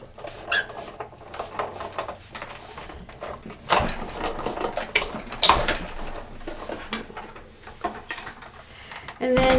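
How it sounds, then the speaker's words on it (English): A die cutting machine presses a card for a shiny Christmas tree eclipse card, giving close, irregular mechanical clunks, clicks and squeaks as the card passes through, with brief louder bursts partway through. "And then we're going to run it through our die cutting machine."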